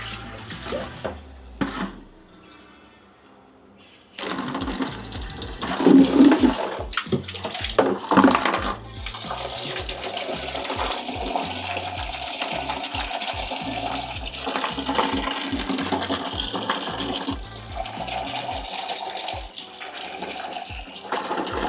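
Water sloshes and splashes steadily as a BMC motorcycle air filter from a Triumph Scrambler 400 X is swished and rinsed in a tub or basin; a quieter lead-in before the washing starts.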